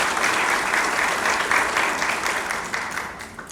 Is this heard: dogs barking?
no